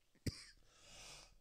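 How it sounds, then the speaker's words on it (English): A single sharp cough bursts out close by, brief and forceful, followed by quiet room noise with no talking. "Still coughing, though."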